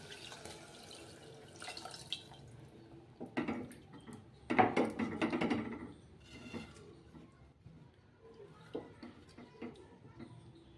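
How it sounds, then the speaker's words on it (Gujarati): Water is added to cooked masala in a pan, giving a few faint splashing, sputtering bursts among light kitchen clatter and clinks. "તેમાં પાણી એડ કરશું."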